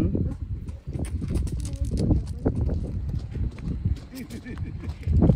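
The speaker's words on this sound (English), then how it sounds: "If I get tired of walking, I just ride the horse." Horse hooves clip-clop at a pumpkin patch, a rhythmic thudding heard close by beneath near-constant chatter from people talking.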